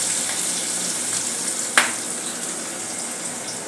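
Tadka of a pinch of asafoetida, two green chillies and chopped ginger sizzles in hot oil for a red chickpea gravy, a steady close crackling hiss broken by one sharp clack partway through, with no voices.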